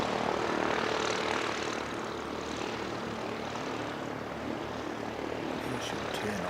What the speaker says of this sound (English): which is the twin engine aircraft that the Aviation Academy